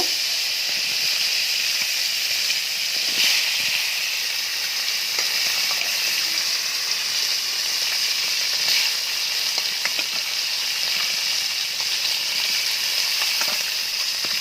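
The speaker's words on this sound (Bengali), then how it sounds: "বাটিতে আরও কিছু মাছ ছিল, সেগুলোকেও আমি ভেজে নেব" Amudi fish fry in oil with a continuous, even sizzle and hiss, close and steady throughout with faint occasional pops.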